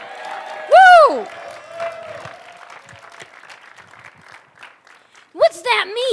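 A congregation at a Korean Christian lecture session cheers and claps, with loud whooping voices rising at the start and again near the end over a steady bed of crowd noise.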